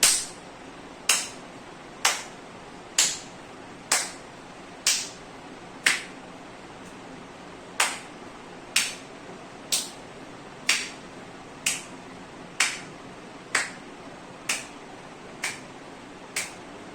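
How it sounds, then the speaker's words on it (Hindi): Single person doing a hand-clapping exercise with arms spread wide and raised overhead, sharp isolated claps repeating at an even pace roughly once a second, close and clear with no talk. "तालियां ही बजानी हैं। और तालियां कैसे करनी है, अब जैसे हम पहले स्कूल में भी करते थे ना, चौड़े हाथ करके ऐसे और ऊपर तक तालियां लेके जानी है।"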